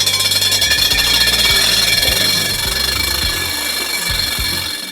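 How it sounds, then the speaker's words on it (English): A loud, steady motor drones without a break close by as a lawn mower cuts a lawn, a continuous harsh buzz with no voices over it. "All right, let's get to the mow."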